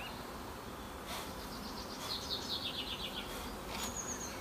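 Honey bees buzz softly around an open hive during an inspection, a faint steady hum with a few brief louder buzzes as bees fly close, alongside light chirps in the background.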